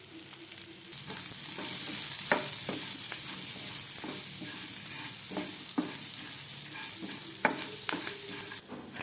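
Curry leaves frying in hot oil in a pan, a continuous close sizzle with scattered scraping stirs and spoon taps over about nine seconds, no voices.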